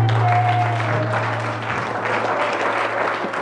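A church congregation applauds and cheers in a steady, loud wash of clapping that fills the space, with a few voices rising through it.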